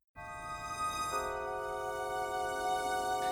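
A Novella Carbon sample-library sound layered with strings: sustained tonal chord that enters abruptly, with a lower layer joining after about a second, held steady and moderately loud with no voices.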